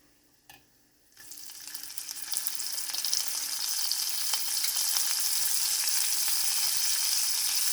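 Fresh ginger drops into a pan of browned cashews and sets off a sudden loud sizzle that builds and holds as a steady, bright frying hiss. A faint knock is heard just before.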